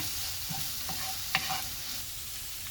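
Cabbage sabji cooks in oil in a pan, giving a steady, close sizzle and frying hiss with a few faint stirring clinks and no talking.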